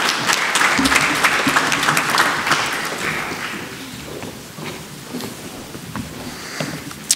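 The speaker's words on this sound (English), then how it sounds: "Warm round of applause" A crowd at a graduation ceremony claps warmly for the Cardiovascular Perfusion class, dense and steady at first, then thinning slightly while continuing through to the end.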